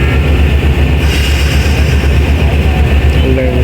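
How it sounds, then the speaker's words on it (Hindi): A train departs Sohawa station on a Pakistani railway line between Gujrat and Attock City, heard as a steady loud rumble of wheels and carriages with a faint squeal near the end. "14 डाउन डिपार्ट कर रही है जी सोहावा से।"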